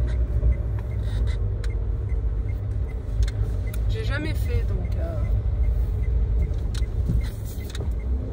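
A car drives slowly through a supermarket parking lot with a steady low engine and road rumble throughout, a few faint squeaks and clicks, and someone speaking French over it.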